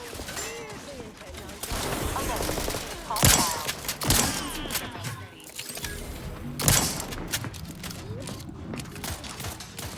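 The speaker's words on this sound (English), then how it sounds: "No, don't shoot at me, bro." Outer Worlds 2 firefight: rapid gunshots and weapon bursts punctuated by heavy thumps, close and loud, with a player talking over parts of it.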